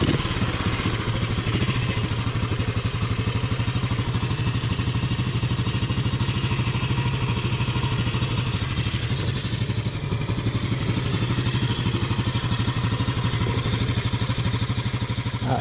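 A 1942 BSA M20 500cc single-cylinder side-valve motorcycle with magneto ignition runs steadily, its even mechanical chuffing and clatter continuous and loud from start to finish, with no voices.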